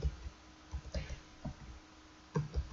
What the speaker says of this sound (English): I'm just going to type in total number of